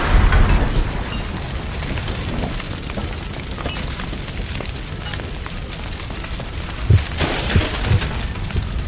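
A gas line explodes in L.A. Noire, a dense roaring burst of fire and debris filling the scene, with a sharper blast and popping bursts late on.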